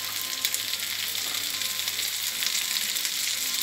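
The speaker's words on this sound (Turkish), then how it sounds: "kızartmaya daldık şu anda" Onions and peppers frying with meat for Turkish holiday kavurma, a constant close crackling sizzle with no talking throughout.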